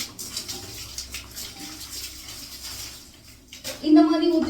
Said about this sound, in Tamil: அப்புறம் தண்ணி ஊற்றி விட ஆரம்பித்தேன்.